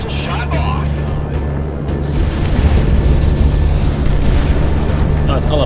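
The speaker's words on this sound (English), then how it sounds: "Missile shot off." A missile fires and explodes during an aerial dogfight in the Project Wingman video game: a loud, sustained deep boom and rumble that swells partway through, dense and continuous, with a brief high tone over it.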